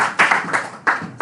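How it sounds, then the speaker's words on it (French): Church congregation clapping along during a French-language sermon, bursts of hand claps rising and falling in uneven waves, fairly close and loud, with no clear talk over them. "Applaudissons pour le Seigneur."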